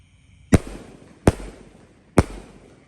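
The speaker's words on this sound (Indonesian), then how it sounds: "Sudah menyala guys. Pelontar 3 tor malam Ramadan hari ke-25." A three-shot fireworks launcher fires on a Ramadan night, three sharp, loud bangs spaced roughly evenly apart, each a crisp close pop followed by a short fading tail.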